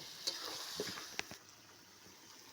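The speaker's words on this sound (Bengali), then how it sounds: "ঢেলে দিলাম জল।" Water is poured into a sizzling chicken curry cooking on a wood-fired stove; a soft, close frying hiss with a few brief splashy bursts, fairly quiet and with no talking.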